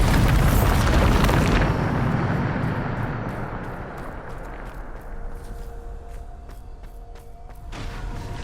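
A Bombarda blasting spell in Hogwarts Legacy erupts as a loud, booming explosion up close, followed by a long rumbling decay and scattered debris crackles.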